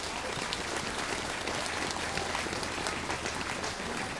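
A large assembly at a Buddhist ceremony, the Jogye Order's supreme patriarch installation, applauds vigorously in a dense, continuous wash of clapping that holds steady throughout.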